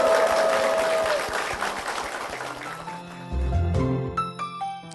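A church congregation applauding in blessing, dense clapping that fades after about three seconds into sustained keyboard or piano notes with chiming tones.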